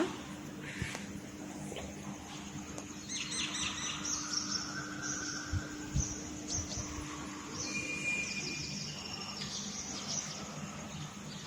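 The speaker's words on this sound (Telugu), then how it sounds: "బర్డ్స్ సౌండ్ అదంతా కూడా చాలా హ్యాపీగా" Many birds chirp and twitter at a distance in the early morning, heard from a balcony, with scattered high calls over a soft, steady outdoor hum.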